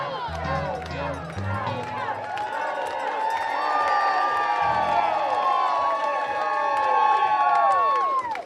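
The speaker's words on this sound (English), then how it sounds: "And the crowd, a huge crowd has formed here." A large outdoor crowd at a fair on a hot day, with a dense, steady swell of voices, shouts and children's cries, loud and close throughout, plus high whistle-like tones overhead.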